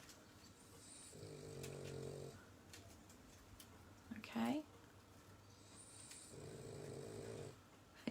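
A dog snoring indoors, with two long, steady breathing rumbles at moderate volume, plus a brief spoken word and a short sound in between.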